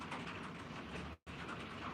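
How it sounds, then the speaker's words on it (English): Hail falls outside a home as a dense, steady rattling hiss with a brief break near the end. "We're hailing."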